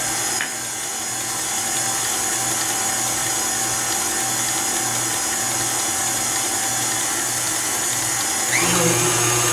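Electric stand mixer with a whisk attachment whipping chocolate cupcake frosting, a loud, continuous mechanical whir with a rattling, gear-like texture that shifts briefly near the end.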